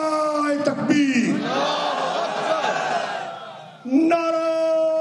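At a PTI political rally in Shikarpur during the Haqooq-i-Sindh March, a long drawn-out amplified call rings out, then a large crowd roars back a chanted response before another sustained call begins; loud and reverberant.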